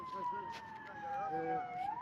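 A wailing emergency siren, from a fire engine arriving at a burning truck on a road, sweeps steadily up and down close by, with a second siren tone layered underneath.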